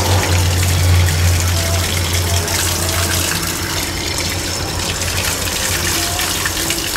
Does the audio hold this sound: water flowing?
yes